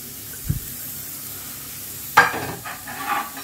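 Ingredients for a stew drop into melted butter in a pan, setting off a close, rising sizzle and hiss after a quiet start with a faint knock, with no talking.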